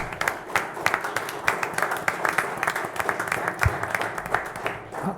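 An audience at a public hearing applauds the fire department, a sustained patter of many hands clapping at moderate volume, fairly close, continuing for several seconds before thinning out at the end.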